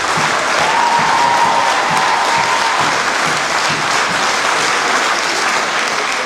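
A theatre audience at an amateur musical comedy in Escaudain gives a performer loud, sustained applause, a thick and even roar of clapping from a large crowd lasting throughout.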